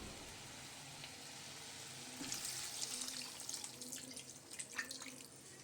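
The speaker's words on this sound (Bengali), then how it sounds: "এবার আমি এর মধ্যে অল্প পরিমাণে জল দিয়ে দেব।" Water runs and splashes into a pot of cooking mutton paya, a soft trickling stream that grows louder and burblier toward the end, heard quietly with no voices.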